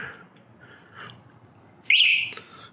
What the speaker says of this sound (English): Get a little beep or chirp from the bike, and the BMS is now locked.